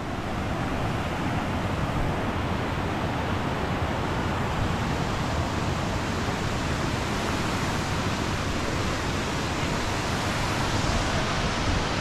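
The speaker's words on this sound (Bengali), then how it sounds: "পাহাড় থেকে ঝর্ণাটা নেমে এই পথ ধরে নিচে নামতেছে।" Waterfall stream flowing down from the hills in Wales, a steady, dense broadband rush that stays constant and fairly loud throughout with no other sounds.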